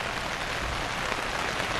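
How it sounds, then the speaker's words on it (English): A steady rain shower falling at an outdoor paintball tournament in New Jersey, a dense, even hiss of drops hitting surfaces with no voices. "Texas needs this rain, not New Jersey."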